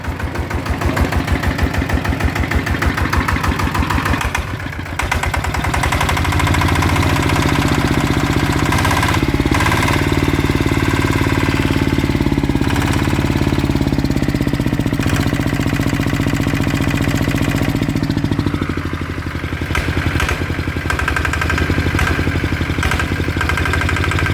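A Blue Bird engine, repaired after a shuddering vibration like a broken bearing, runs loud and steady with a rough, pulsing mechanical knock, briefly dipping a couple of times before settling back to a continuous drone.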